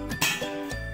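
A metal or glass kitchen vessel is picked up with a couple of short, close clinks, quiet and brief, with no talk.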